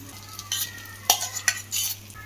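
A spoon stirring boiled chana dal into an egg fry in a pan over a medium flame, a few scraping strokes against the metal with a faint sizzle underneath, close and fairly quiet.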